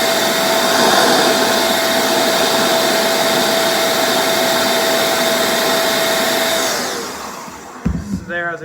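An electric air duster runs on its high setting, a loud steady blowing roar with a constant whine that holds for about seven seconds, then spins down and fades, followed by a few brief handling knocks.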